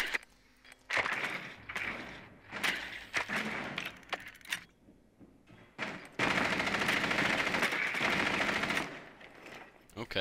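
Gunfire in Rainbow Six Siege: bursts of automatic weapon fire and single shots, with thuds and breaking glass, ending in a long sustained burst; loud and close, with some voice chatter mixed in.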